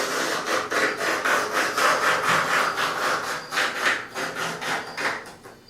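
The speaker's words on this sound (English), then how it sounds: "I'm just going to cut and trim away the foam, running a razor knife right along the edge" A razor knife trims away foam along the edge of a composite trunk opening, making a rapid, regular series of close rasping strokes that continues steadily without pauses.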